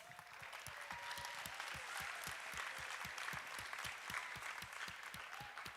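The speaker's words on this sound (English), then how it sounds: "give yourselves a round of applause" Audience applause closing an awards and closing-comments event in the Athens-Clarke County area, a steady dense wash of many hands clapping at moderate distance throughout, with a faint voice briefly audible.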